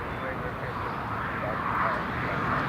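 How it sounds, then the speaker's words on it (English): Steady low roar of airliner engines at Newcastle Airport, with an easyJet A321 nearby readying for push and start, continuous and moderately loud, with someone talking over it. "the EasyJet there is ready for push and start"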